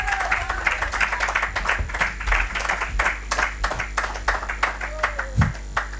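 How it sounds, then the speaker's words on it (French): Church congregation applauding together during a French-language sermon, a dense, steady wash of handclaps lasting throughout, with a voice briefly audible under the clapping. "Applaudissons pour la gloire de Dieu."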